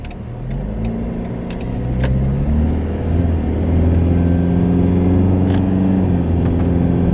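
Ford Ranger cruising at highway speed with its DPF/EGR delete cable fitted and the EGR valve disconnected: a steady, loud engine drone and road rumble heard from inside the cab, with no voices.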